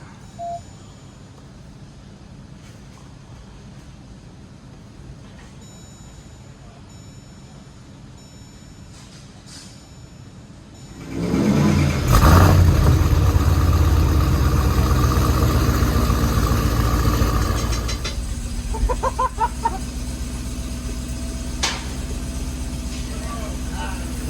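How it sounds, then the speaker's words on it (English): A 2018 Jeep Trackhawk with a 1000 HP build fitted with a Whipple supercharger, headers and new injectors primes quietly, then barks into its first cold start and settles into a loud, rough, close idle while people talk nearby. "All right, we're gonna prime it up first before we start it up."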